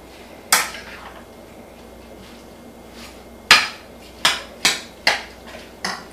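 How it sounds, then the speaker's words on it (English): Sausage dressing ingredients being mixed in a bowl, heard as a handful of sharp utensil knocks against the bowl, one early, then a quick run of four or five clacks near the end over a quiet background. "we're going to just start to mix everything together"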